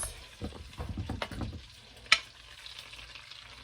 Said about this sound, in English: So our butter has melted in there.